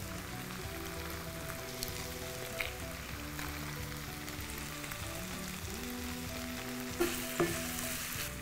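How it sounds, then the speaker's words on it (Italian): Chicken browning in a pan gives a steady, dense sizzle of frying with light stirring clatter. It runs the whole time at an even level, with a few brighter pops near the end. "Una volta che il pollo è ben rosolato, ma veramente fatelo rosolare per bene"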